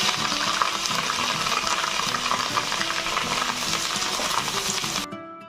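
Onion, ginger, garlic and cashew paste sautéing in a pan for a duck egg curry, a loud, dense sizzle with busy stirring scrapes running steadily, cutting off abruptly at the end.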